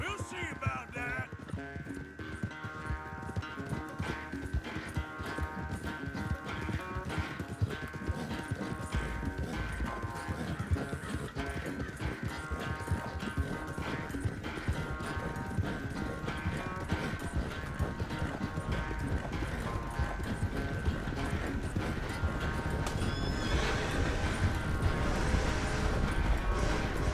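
A horse in Red Dead Redemption 2 gallops with rapid, continuous hoofbeats under a sustained musical tone, the pounding growing louder toward the end, close and with no talk.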